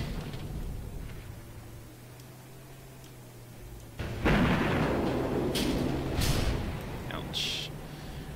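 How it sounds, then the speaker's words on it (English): A tank in a modded tank video game takes a hit from an armor-piercing shell: a sudden loud broadband impact bursts in partway through, followed by rumbling debris and sharp crackling bursts over a steady low engine drone. "So the guy did 561 damage to me with an AP round."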